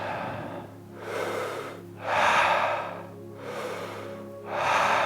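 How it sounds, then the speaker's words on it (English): Slow, deep yoga breathing: alternating long inhales and exhales, about four audible breaths in five seconds, close to the ear with a soft airy rush and no talking. "Last deep breath in. Exhale all the air out."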